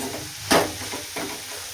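A vegetable dish with chili powder frying in a pan is stirred, giving a low sizzle with a few distinct scraping strokes of the spoon, nearby and without speech.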